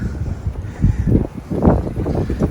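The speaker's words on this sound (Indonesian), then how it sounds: "Belum lagi angin ya." Gusty early-spring wind in Beijing buffets the microphone in low, rumbling surges that swell and fade.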